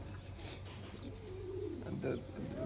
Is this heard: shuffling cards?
no